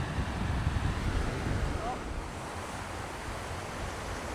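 Surf washing onto an ocean beach on a sunny day, a broad steady roar of breaking waves with wind buffeting the microphone, constant and fairly close throughout.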